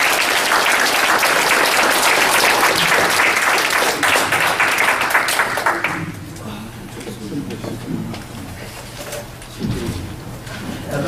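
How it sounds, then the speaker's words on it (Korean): Lecture audience at a Korean talk gives a big round of applause, loud dense clapping for about six seconds that then stops abruptly, leaving quiet room noise and faint voices and shuffling. "네, 다시 한번 큰 박수."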